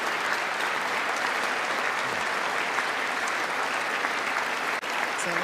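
Steady, dense applause fills the chamber as a State of the Union audience stands clapping, an even wash of many hands at a constant loud level throughout.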